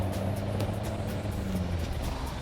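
A small car with a 1-litre engine drives along, its steady low engine drone and road noise continuous and fairly close throughout, with no talking.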